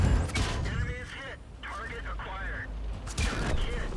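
Rapid bursts of tank gunfire from a 12T light tank in World of Tanks on the Live Oaks map, loud cracking shots in quick succession layered over steady engine rumble and a talking voice.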